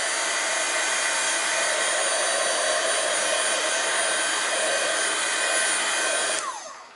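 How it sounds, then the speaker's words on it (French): A heat gun drying a Faber-Castell Albrecht Dürer watercolour pencil drawing blows a loud, steady, close whooshing hum for about six seconds, then cuts off and winds down. "donc je le sèche avec un pistolet sèche"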